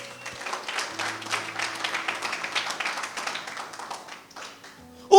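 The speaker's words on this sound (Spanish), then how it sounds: "Dale un aplauso al Señor." A church congregation gives a strong round of applause that swells, then thins and fades near the end, closing with a single loud knock or tap.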